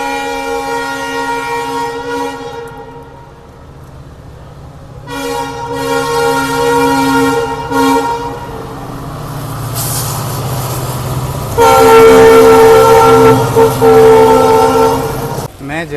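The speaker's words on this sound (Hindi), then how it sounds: "ये है रींगस का रेलवे स्टेशन।" A train at Ringas railway station in Rajasthan during rain sounds loud, repeated horn blasts over a continuous rumbling rail noise, with the horn rising strongest near the end.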